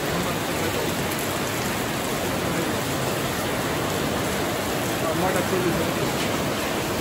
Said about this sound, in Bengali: গোসল করার পরে বৃষ্টি আসে